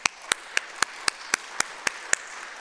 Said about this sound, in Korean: 여러분 함께 박수해 주시기 바랍니다